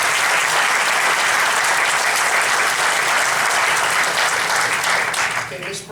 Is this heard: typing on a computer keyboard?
no